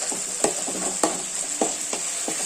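Beans curry (chikkudukaya) being stirred in a frying pan, a spoon scraping through it in four or five distinct strokes roughly every half second over a steady close sizzle, with no talking.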